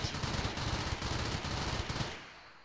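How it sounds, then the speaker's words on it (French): Rapid automatic gunfire from a turret shooting at a target in the video game RimWorld, a dense continuous burst of shots that holds for about two seconds and then trails off. "je peux demander par exemple à la tourelle d'attaquer ici"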